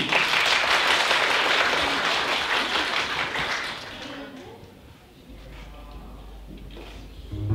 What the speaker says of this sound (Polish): Oklaski!